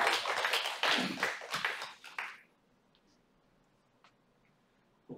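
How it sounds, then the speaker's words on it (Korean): Congregation applauding during a church worship service, a dense burst of clapping for about two and a half seconds that cuts off sharply into near silence, with a few faint taps after. "우리 하나님께 영광의 박수하겠습니다"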